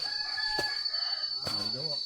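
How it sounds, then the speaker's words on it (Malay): A junglefowl crows in forest, two loud calls standing out against a steady high insect drone, with faint speech under it. "Oh, ini ayam hutan."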